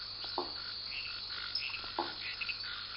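A Phyllomedusa bicolor monkey frog calls at night: faint, intermittent clucking croaks rise over a steady hum of insects, with a few sharper calls standing out against the constant chorus.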